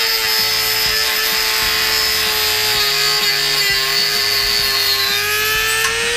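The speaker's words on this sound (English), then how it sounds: "So I'm gonna cut the key right there." A lug nut key being cut through with a power saw or cutting tool, a steady loud whine with shifting low grinding pulses, continuous throughout with no talk.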